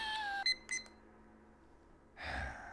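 A timer sounds a quick run of electronic beeps at the start, a few bright tones close together, then goes quiet before a rough burst of noise near the end.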